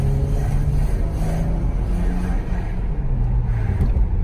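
A Mercedes C36 AMG engine revving toward 6500 rpm, a loud, steady, close-up roar with a rising then easing drone throughout and no clear talk over it.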